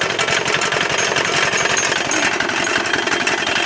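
A 198cc diesel engine mounted on a lawn wagon runs steadily and loud throughout, a dense rapid chugging clatter with no pauses and no talk.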